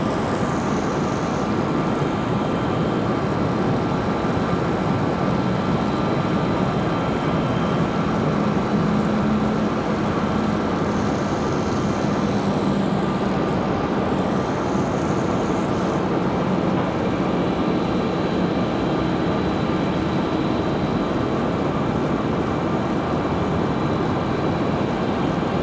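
A jet airliner roars steadily at Raleigh Durham International Airport, a loud continuous broadband rumble and hiss that holds level throughout with no voices.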